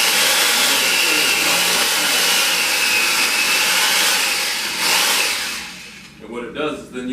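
A power saw whines loudly and continuously as it cuts between the ribs of a butchered Mulefoot hog, then winds down near the end with a few rough bursts.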